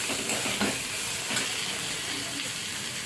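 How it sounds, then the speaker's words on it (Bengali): Turmeric powder and spices are stirred in a pan over a medium gas flame for egg tadka, giving a steady, close sizzle and hiss with faint scraping of stirring throughout. "হলুদ গুঁড়োটাকে নিয়ে ভালো করে আমি নেড়ে চেড়ে মশলাটাকে কষে নেবো ভালো করে।"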